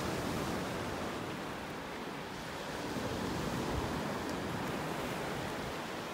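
Surf and wind on the beach at Delnor-Wiggins Pass State Park in North Naples, Florida, a continuous broadband wash of breaking waves with gusting wind buffeting the microphone, fairly soft and steady.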